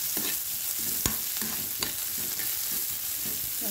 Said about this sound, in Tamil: கட் பண்ணி வச்சுருக்க வெங்காயத்தை சேர்த்துக்கோங்க